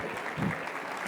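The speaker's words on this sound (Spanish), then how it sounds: "Recibamos en este escenario con un fuerte aplauso" Short burst of dense applause from an event audience welcoming a speaker to the stage, a continuous wash of many hands at moderate distance, with a faint voice underneath.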